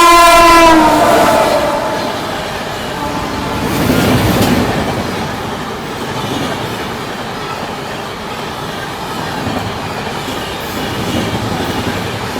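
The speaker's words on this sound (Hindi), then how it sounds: "सामने से आती हुई लखनऊ नई दिल्ली तेजस" A Lucknow–New Delhi Tejas express passes the other way at a crossing, opening with a loud horn blast followed by a steady roaring rush of rail cars and wheel clatter, close and continuous with no talking.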